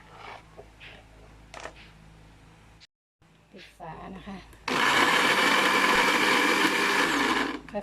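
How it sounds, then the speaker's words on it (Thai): Sliced fingerroot (krachai) and water whirring in a kitchen blender, a loud steady motor roar starting abruptly after a short pause and earlier brief speech, running for the last few seconds. "นี่นะคะกระชายที่เราหั่นแล้ว เราก็จะมาปั่น ทยอยนะคะ"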